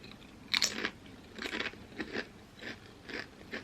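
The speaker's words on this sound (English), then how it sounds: "Now I'm gonna dig into the double patty burger." Close, crunchy bites and chewing on a vegan double-patty cheeseburger with vegan cheese, onions, pickles and ketchup, several distinct crunching bursts in a steady rhythm with no talking.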